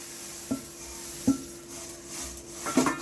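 Puffed rice (murmura) for laddoos is stirred in a kadai, giving a few sharp metallic scrapes and clinks against a soft, dry rustle, close and fairly quiet.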